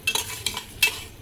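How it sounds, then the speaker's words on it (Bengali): Spice paste stirred with a little water in a pan, with a few soft scraping strokes and clinks of a spoon at a slow, uneven pace, close by and fairly quiet. "একটু পানি দিয়ে মশলাটাকে কষিয়ে নেব"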